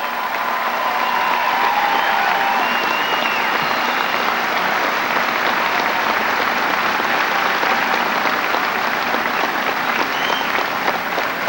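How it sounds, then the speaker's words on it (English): A large convention crowd applauding Senator Dole in 1996, a loud, dense and sustained wash of clapping that holds steady for the whole stretch, with faint cheers mixed in. "I ask you to join me in applause for his lifetime of service to the United States"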